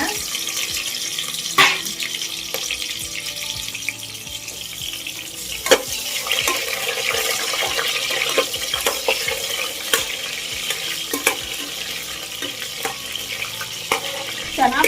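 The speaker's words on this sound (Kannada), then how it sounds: "ಫ್ರೈಗೆ ಈರುಳ್ಳಿ ಹಾಕೋಣ" Onions frying in a pan for a wedding-style chicken dry fry, a steady close sizzle with scraping stirs and occasional clatter throughout.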